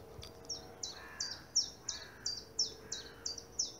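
Spring woodland birdsong: a bird repeats a bright, high chirping call about nine times in a steady rhythm, fairly clear against a faint background hush.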